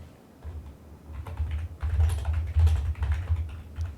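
Typing on a computer keyboard, a steady run of close, quick keystrokes with short pauses between bursts and no voice.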